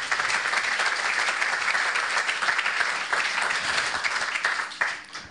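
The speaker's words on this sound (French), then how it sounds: "applaudissements" Steady applause fills a housing trophy ceremony as the award is handed over, a dense wash of clapping from the audience holding level throughout and easing slightly at the very end, with no voices over it.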